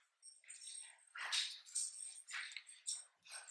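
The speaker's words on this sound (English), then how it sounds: "If you hear the chaos in the back, it's my dogs." Several dogs yip, whimper and bark in a steady, chaotic run of high-pitched calls, fairly faint and off in the background of a home sewing space.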